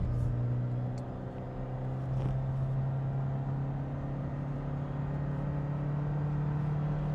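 A 2020 Toyota Corolla Hybrid accelerates in a straight line, heard from inside as a steady, moderate engine drone with a constant hum and faint road noise, no talking.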